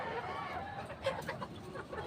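Chickens of a tall breed cluck softly and continuously at close range, with a few brief louder calls mixed into the busy background.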